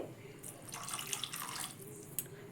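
Water pours into a pan for a capsicum egg curry in a spice-paste base, a soft splashing trickle lasting a couple of seconds at low level, close and with no voices.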